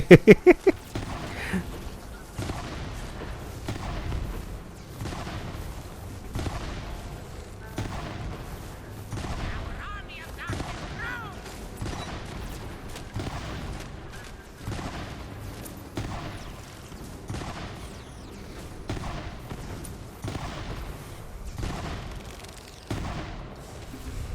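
Repeated gunfire while fighting enemies in Tiny Tina's game, a long run of regularly spaced, punchy shots with short pauses between bursts, fairly loud throughout.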